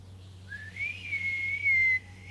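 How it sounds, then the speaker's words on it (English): A single clear whistle in the video game Ghost of Yotei glides upward, then holds a steady high note for about a second before cutting off. "Maybe if you try whistling."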